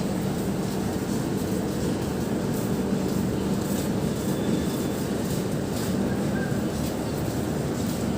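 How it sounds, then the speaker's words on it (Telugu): A Vikrama Simhapuri intercity train at Chirala railway station, heard from on board as a loud, continuous rumbling roar of the moving train that holds steady throughout. "ఇది చీరాల రైల్వే స్టేషన్ అండి."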